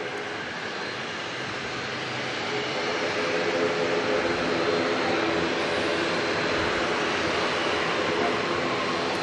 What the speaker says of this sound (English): Jetstar from Brisbane just touching down.